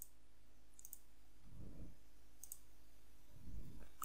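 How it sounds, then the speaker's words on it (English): A computer mouse gives a few crisp, quiet clicks, spaced apart, in a near-silent room with faint low thumps between them and no voices. "Make sure you scroll up and you click on save."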